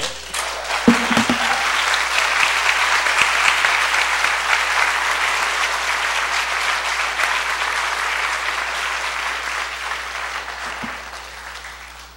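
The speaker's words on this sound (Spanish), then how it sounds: "Denle un aplauso al Señor." Steady, loud applause from a church congregation, sustained for several seconds and slowly tapering off at the end, with no speech over it.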